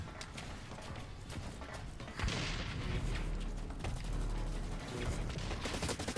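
Rapid gunfire in the shooter game Blacklight Retribution, dense mechanical rattling bursts that swell louder after the first couple of seconds and keep going with a low rumble underneath.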